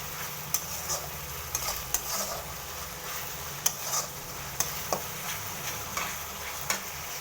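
Spice masala is stirred and sautéed in a pan: a soft, low sizzle runs underneath while a utensil scrapes and taps against the pan in a steady rhythm of sharp clicks.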